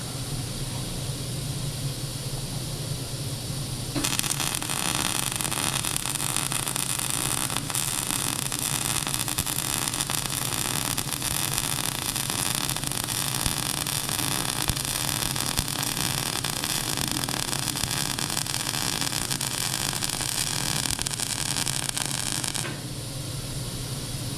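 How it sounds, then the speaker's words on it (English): A MIG welder runs a bead from end to end along a small metal piece, giving a steady, close crackling hiss that holds for about twenty seconds over a low hum before cutting off. "I'm going to weld from end to end"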